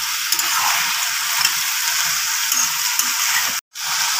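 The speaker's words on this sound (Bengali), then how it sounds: "এখনও 2-3 মিনিট আমি আরও কষিয়ে নেব।" Marinated chicken sautés with spices, salt and vegetables in a pan on a gas stove, giving a steady, close sizzle and spatter that is cut off for a moment near the end.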